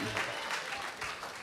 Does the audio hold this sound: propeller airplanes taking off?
no